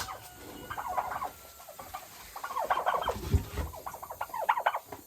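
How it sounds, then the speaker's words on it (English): Chickens clucking and calling inside a portable chicken coop, a busy stream of short, close bird sounds with occasional louder squawks and low shuffling in the background. "The chickens are already utilizing the box."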